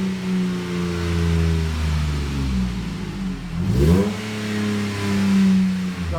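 A 2011 Jeep Liberty Limited 4x4 with a 3.7L V6 and Magnaflow dual exhaust revs up and settles, close and steady, with one sharp throttle blip midway before the idle climbs again.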